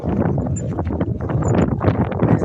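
Steady wind buffeting the microphone outdoors, a continuous rumbling roar with gusty swells and some faint rustling throughout.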